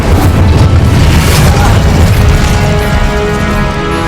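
A fire spell cast in the Hogwarts Legacy video game bursts out as a loud, dense whoosh and boom that fills the moment, thick with low rumble and roaring noise.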